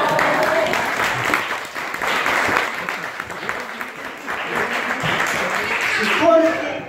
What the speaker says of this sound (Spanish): Así que un aplauso para mí.